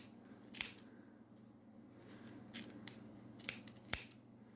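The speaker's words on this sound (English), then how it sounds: "take your scissors and then cut these loops" Sharp scissors snipping through the yarn loops of a handmade pom-pom, a few quiet crisp cuts spaced out over soft background hiss.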